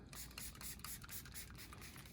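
Short hissing bursts of solvent spray into a Girsan MC312 12-gauge shotgun barrel, quick pulses over about two seconds, close but quiet.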